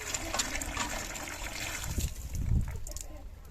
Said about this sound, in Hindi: गधे को जी यहाँ पानी पिलाया जा रहा है, प्यासा बहुत था